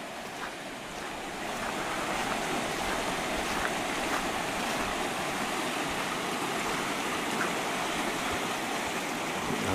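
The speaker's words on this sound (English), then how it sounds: "Now the creek is just roaring." A flooded creek roars in a steady, dense rush of water, loud and continuous, filling the whole scene with no voices.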